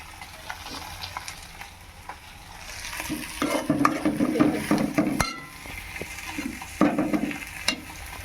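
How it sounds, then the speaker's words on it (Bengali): Eggplant frying with a fish and onion mixture in a pan, a constant sizzle that grows louder midway as stirring and scraping strokes come in, close with occasional utensil clinks and no speech. "এখানে বেগুন ভাজা হচ্ছে, মাছের পেঁয়াজ দিয়ে বেগুন ভাজা"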